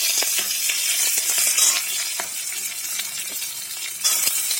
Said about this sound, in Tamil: ஒரு பேனில் 3 ஸ்பூன் அளவுக்கு ஆயில் எடுத்து ஹீட் பண்ணியிருக்கேன். அதில் நம்ம கட் பண்ணி வச்சுருக்கிற வெங்காயம் சேர்த்துக்கலாம்.